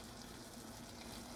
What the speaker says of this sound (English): Rice is cooking now.